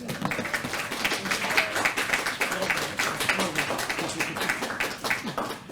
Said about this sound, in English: Another round of applause for Rick Dammers